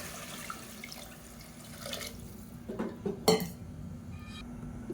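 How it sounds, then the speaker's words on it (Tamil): Water being poured from a cup into a pot of rice for kanji, a soft trickling splash, followed by a couple of sharp metallic clinks of the vessel near the end; no talking. "இப்போ நம்ம தண்ணி சேர்த்துக்கலாம்"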